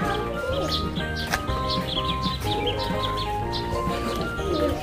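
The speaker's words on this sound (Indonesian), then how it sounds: "Ayo kejar bebek." Pet ducks, grown large, move about in the mud with scattered quacks and calls alongside some wing-flapping, plus faint voices nearby.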